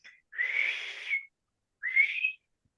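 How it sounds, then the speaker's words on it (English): A police whistle gives two loud, shrill blasts, the first held about a second and the second shorter, each standing alone against silence. "he blows a loud blast on his whistle"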